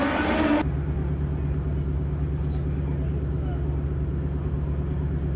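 A drag racing car makes a pass at NHRA Pomona Fairplex, heard as a steady, fairly distant engine drone after a brief burst of noise at the start.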